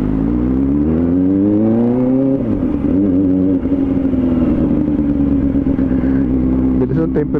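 A motorcycle engine runs close and loud, its pitch rising as it revs and then settling into a steady drone that continues to the end.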